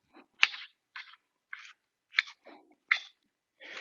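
Crunchy, just-cooked vegetables being chewed at close range during a Mexican cooking class, with a rhythm of short crisp bites and crunches spaced about half a second apart and no talking.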